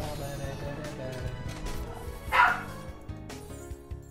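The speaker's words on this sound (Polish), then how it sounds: "Ale tu są głupie psy." Dogs barking in a noisy gaming setting during an Overwatch loot-box opening, with a sharp bark burst mid-clip over a busy bed of game music and effects, while someone talks.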